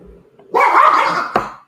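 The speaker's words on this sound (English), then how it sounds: "oh, your dog." A dog barks once, loud and close, a short burst followed by a faint second yip, with no talk during it.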